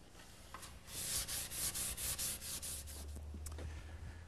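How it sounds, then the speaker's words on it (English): Rhythmic rubbing strokes of sandpaper on redwood, about a dozen quick back-and-forth passes, close and dry, then a low hum and a few light knocks. "A little bit of final sanding."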